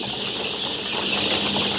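Brown chicks about 18 days old clucking and rustling in a busy, continuous chorus, close by with no voices.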